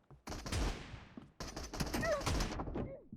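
Gunfire from a two-round gun in PUBG Mobile comes in two loud, close bursts, each trailing off quickly. Excited voices come in briefly between the shots.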